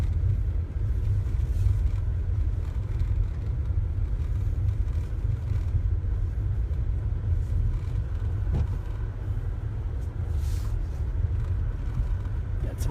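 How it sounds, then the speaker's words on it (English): Race cars roll slowly into the pits at a 2017 SCSDA April Fuels drag race, a steady low engine rumble and road noise heard from inside a car, continuous and fairly even. "Some racers pulling in here."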